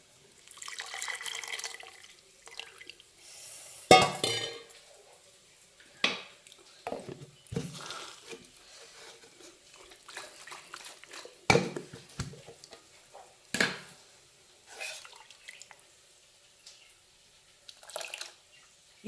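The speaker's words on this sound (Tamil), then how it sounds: "இந்த மிக்ஸி ஜாரை நம்ம இந்த தண்ணி இருந்தது இல்லைங்களா, அதை ஊற்றி அப்படியே கழுவி ஊற்றிடலாம்" Water is poured into a mixer grinder jar to rinse it out while making pasalai keerai (spinach) kadaiyal, giving close, intermittent splashes and trickles with short pauses between pours.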